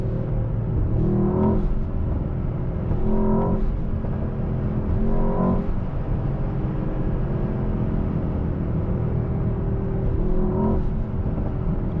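A deep V8 engine drone from a 2024 Mercedes-AMG S63 sedan fills the cabin, rising and surging through several throaty pulls as the car accelerates, steady and close throughout.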